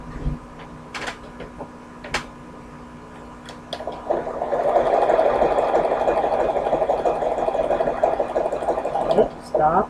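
A sewing machine stitches a tiny zigzag, a few sharp clicks first, then a steady rapid mechanical chatter that runs for several seconds before stopping, with a voice speaking over it.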